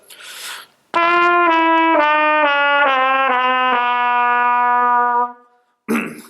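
A run of about seven sustained trumpet notes stepping downward in pitch through the valve combinations from shortest to longest tubing, each sliding straight into the next, loud and close, with silence before and after.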